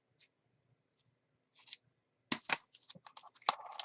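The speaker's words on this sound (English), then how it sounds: "I've got some fabric here since I haven't really used a lot of fabric. So maybe what we'll do is cut a piece of this." Scissors snip through a piece of fabric in a few short, crisp bursts, quiet at first and then a quicker run of close cuts, with no talking.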